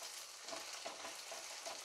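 Chopped green chillies frying with onions in a pan of oil for a Bengali Bombay duck fish dish, giving a soft, even sizzle that stays faint throughout.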